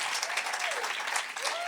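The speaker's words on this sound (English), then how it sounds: "give a huge round of applause for Gabor Maté" Live audience giving Gabor Maté a big round of applause at a podcast recording, a thick, steady burst of clapping from many people throughout.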